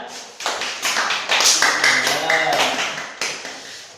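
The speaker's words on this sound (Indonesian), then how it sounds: "Kita berikan tepuk tangan anak-anak." Children in a classroom clap for a classmate who has just introduced himself, a short burst of small-handed applause under a teacher's voice.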